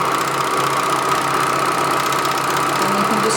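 A Juki MO-735 overlock serger runs continuously through fabric, giving a steady, fast mechanical whir and rattle at constant loudness, close up, with no talking.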